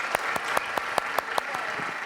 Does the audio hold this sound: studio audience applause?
yes